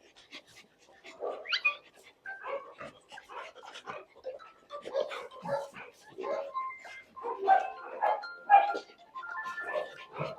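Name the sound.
dogs barking in a kennel, golden retrievers and labradors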